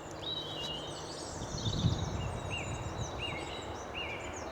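Outdoors along a countryside walk, a thrush sings from a distance: short, repeated high whistled phrases coming in bursts over soft wind and ambient rustle, with no talking.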